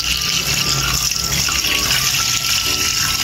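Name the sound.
water poured into cooking pot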